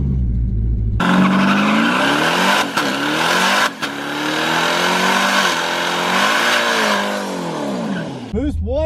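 A turbocharged car at a track day does a burnout on low boost, its engine revving hard and sweeping up and down in pitch with tire squeal for several seconds before cutting off abruptly.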